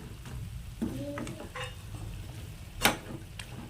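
A spoon stirs chicken with ginger, garlic and pepper frying in a pan, making light scraping and clinking against the metal over a low sizzle, with one sharp clack near the end.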